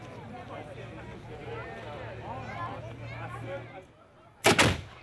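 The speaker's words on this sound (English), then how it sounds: "A cannon announces the news to the entire valley with Sarajevo below the moment the sun sets" A single loud, deep cannon boom announcing sunset bursts out near the end, echoing over Sarajevo, following a stretch of murmuring crowd and distant chatter.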